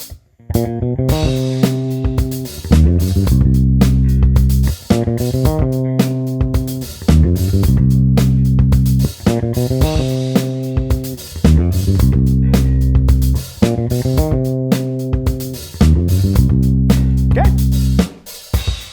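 A driving, repetitive funk bass guitar riff, with punchy low notes over steady drums, looping continuously at a loud, even level.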